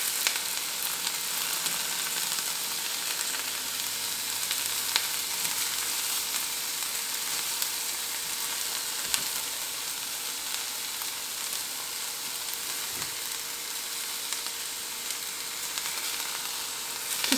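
About 100 grams of tofu frying in a pan, giving off a steady, close sizzle with occasional soft stirring sounds throughout.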